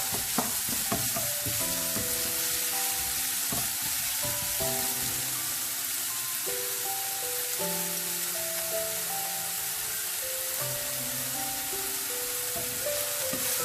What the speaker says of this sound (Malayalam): സബോള ഒന്ന് വഴണ്ട് വരുമ്പോൾ കുറച്ച് ഉപ്പ് ഇട്ട് കൊടുക്കുക.